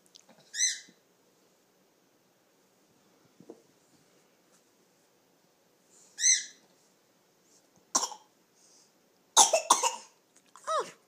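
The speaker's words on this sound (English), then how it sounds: "Big cough." A young girl coughing while eating broccoli, several short separate coughs spaced apart in a quiet room, the last ones louder and rougher.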